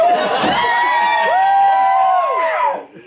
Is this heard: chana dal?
no